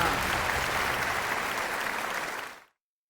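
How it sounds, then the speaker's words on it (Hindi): Studio audience applause welcoming a guest on a Hindi radio health show, a dense burst of clapping held steady for a few seconds before being cut off abruptly. "जोरदार तालियों से बॉक्स एफएम पर स्वागत करते हैं डॉक्टर राम अवतार शर्मा का।"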